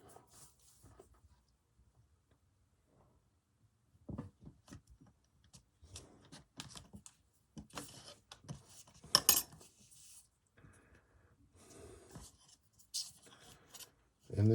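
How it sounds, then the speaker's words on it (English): Thin blade cutting a straight edge into polymer clay along a quilting grid, heard as faint, scattered taps and short scrapes that grow busier after a quiet start, with no talking. "I'm going to cut a straight edge"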